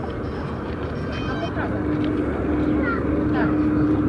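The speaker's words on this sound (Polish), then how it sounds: "Przelot specjalnie na małej prędkości, po to, aby zdążyli się Państwo dobrze przyjrzeć Dakocie." A Douglas DC-3 Dakota in Swedish markings makes a slow, low flypast at the Mazury Air Show 2012 in Giżycko, its steady propeller-engine drone rising slightly under constant announcer-style speech from a loudspeaker.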